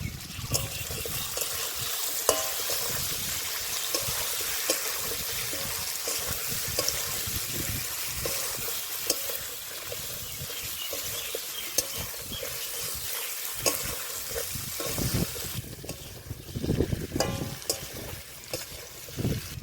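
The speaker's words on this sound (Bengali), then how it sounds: "এক চামচ হলুদ গুঁড়ো সেরা কাঁচা লঙ্কা ভালো করে কষে নেব" Turmeric powder and green chilies being fried for a rui fish curry with potato and raw banana make a continuous sizzle under repeated stirring and scraping, growing busier and louder near the end.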